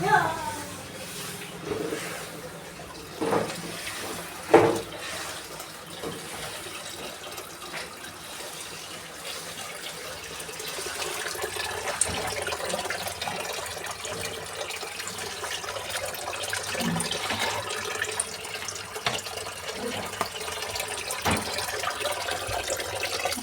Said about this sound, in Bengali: আজকে এখনও কলের জল পড়ছে